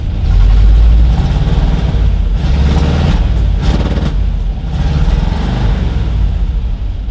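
A 1963 Ford F300 dually truck engine runs with a loud, rough low rumble that rises and falls slightly as it idles and revs, close by and steady throughout.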